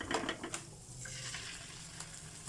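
Century tuna sautéing in a pan with garlic and onion, a steady soft sizzle with light stirring and scraping of the utensil, close and fairly quiet, no talking.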